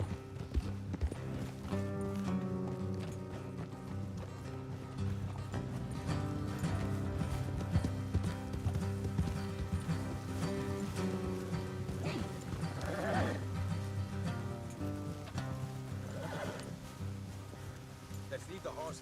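Horse hooves clip-clop in a steady trotting rhythm in a video game, alongside occasional neighing and background music, with voices talking intermittently over it.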